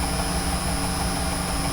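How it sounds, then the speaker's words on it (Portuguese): An electric motor driven by a frequency inverter and reversing at a limit switch runs with a steady loud hum and faint high tonal whine, with no clear change across the moment. "Está o motor lá."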